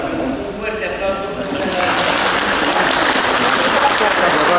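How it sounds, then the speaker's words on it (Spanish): Audience applause at a religious festival ceremony honoring the Virgen María Magdalena in Uramaza, Cajatambo: clapping swells from a voice over a crowd into sustained, dense applause that fills the rest of the clip. "Un fuerte aplauso"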